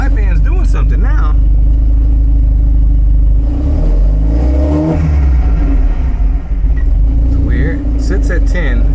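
A 1975 Volvo 245 wagon with a 16-valve turbo engine revs under gentle throttle, a loud, close rumble rising and falling in pitch, with voices talking over it.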